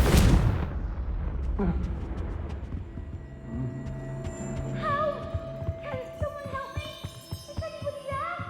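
A Confringo spell explosion in Hogwarts Legacy, a deep booming blast at the start that rumbles and fades, followed by scattered impacts, crackles and shimmering magical tones.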